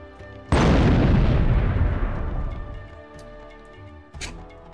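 A sudden loud boom in the video game Frank Herbert's Dune bursts out and rumbles away over a few seconds, followed by a smaller sharp hit near the end.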